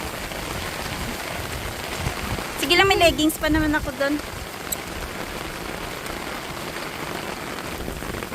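Heavy rain pours steadily at a campsite in Canada, a dense continuous hiss of drops on surfaces, with people talking briefly over it midway.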